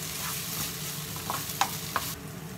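Crab meat omelette mixture being stirred in a bowl, a steady soft scraping swirl with a couple of light taps of the utensil against the bowl.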